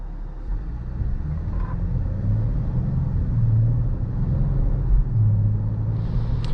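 A 2021 Dodge Charger GT accelerating from behind the wheel, a low steady engine rumble with road noise that swells gradually, heard from inside the cabin without talk.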